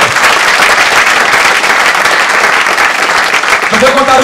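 A church congregation claps in praise, a loud, dense, continuous burst of applause throughout, with a voice rising near the end.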